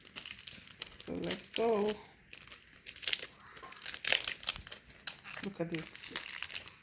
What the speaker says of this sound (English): it's time to unwrap our Koki beans and see what it looks like